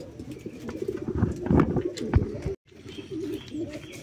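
Pigeons coo inside a coop during cleaning, a close, steady layer of soft low cooing with a few chirps, broken by a brief silent gap near the end.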